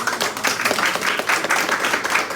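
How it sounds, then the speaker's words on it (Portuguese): Clapping from a small group at a Brazilian talk on life projects and art, a steady patter of hand claps with no speech over it. "Aplaudo vocês."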